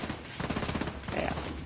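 Rapid gunfire in The Division 2, with a dense burst of overlapping shots and crackling impacts, close and loud throughout.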